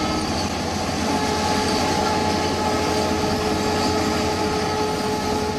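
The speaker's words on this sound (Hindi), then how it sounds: "आपको ये 2 ट्रेनें जाती हुई नजर आ रही हैं" Two trains passing on railway tracks near homes, a loud continuous rolling roar of wheels and carriages with faint clickety-clack and steady tonal whines throughout.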